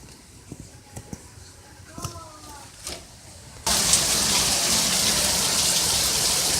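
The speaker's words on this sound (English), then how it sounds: "It was pouring bad." Heavy rain pours down during a storm with a tornado warning. Faint scattered knocks come first, then the downpour cuts in as a loud, dense, steady roar that runs to the end.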